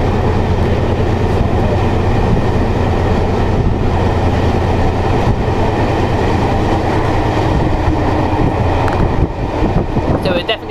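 A Class 68 diesel locomotive heard from aboard the train between Brundall Gardens and Norwich, a loud constant engine drone and rumbling rail noise with wind buffeting, while a voice talks over it.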